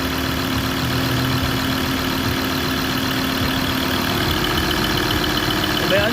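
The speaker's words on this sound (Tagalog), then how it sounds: "Fuel knock." Ford Ranger engine running with a fuel knock, a steady, loud, continuous drone with a constant low rattle throughout, no talk.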